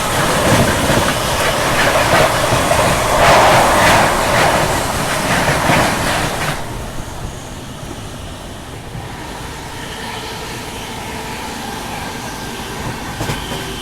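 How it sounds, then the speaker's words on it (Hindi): The Bhubaneswar Rajdhani express train rushes past with loud rumbling and rhythmic clatter of wheels over rail joints, then the roar eases into a steadier, fading rolling sound. "लीजिए यहाँ पे आ चुकी है भुवनेश्वर राजधानी।"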